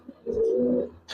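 A single close Giribaz pigeon coo, a soft low throaty warble lasting about half a second in a quiet setting.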